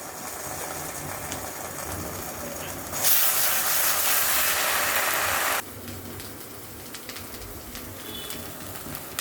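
Ginger, garlic and cumin paste sizzles in a frying pan while a local chicken curry cooks, a loud steady hiss that jumps sharply midway and then eases back to a softer frying crackle.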